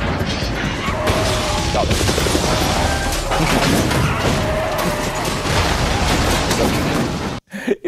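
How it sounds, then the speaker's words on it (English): Movie explosion from Bad Boys, a sustained loud roaring blast with crashing debris and rumble lasting several seconds, ending abruptly; a brief exclamation follows. "Is there an explosion from Bad Boys or something that we can get to spice this up?"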